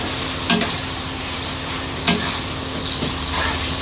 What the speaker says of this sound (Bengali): দেখি একটু তরকারিটা নেড়ে দিয়ে আসি